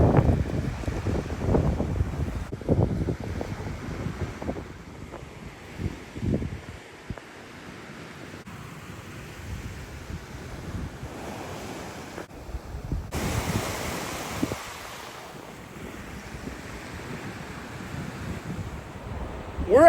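Ocean surf and gusting wind along a Florida beach at Englewood, a steady broadband wash with rumbling wind buffeting the microphone throughout, heard up close.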